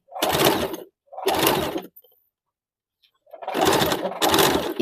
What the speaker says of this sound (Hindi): इसी प्रकार से धीरे धीरे घुमा के पूरे गले में मशीन चला लेंगे।